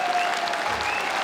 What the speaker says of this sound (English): Going to be a massive roar heavy from the crowd.